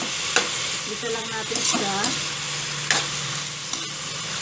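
Pork and cabbage sauté in a pan for ginisang repolyo, a steady close sizzle under intermittent stirring scrapes and clinks, with a brief spoken remark partway through.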